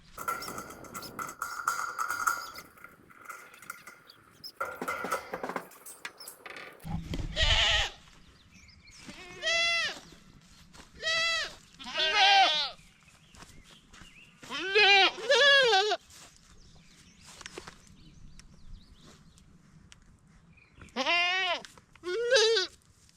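Goats in a field bleat repeatedly, with several loud, wavering calls spaced a few seconds apart and quieter rustling and background noise between them.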